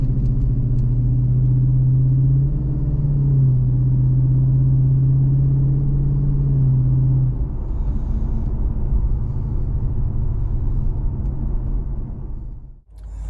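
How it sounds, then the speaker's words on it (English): A Lexus IS F with an upgraded MAF tube, its gearbox flaring and slipping toward neutral, drives along a road with a loud, steady engine drone and a sustained tone that drops away partway, then rumbles on under road noise, with no talking. "we're on the road again, and gearbox is really weird"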